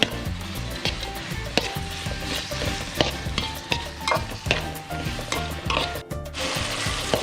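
Ginger garlic paste and onion sautéing for chicken capsicum, a steady sizzle under repeated rhythmic scraping and knocking of a utensil against the pan, close by.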